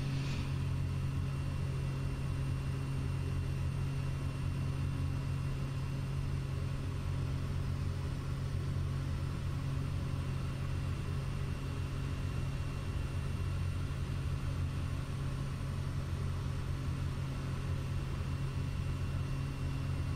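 Steady droning engine of a Pilatus PC-6 Porter in Microsoft Flight Simulator during a descent, a continuous low rumble with a constant hum that holds alone and unbroken throughout.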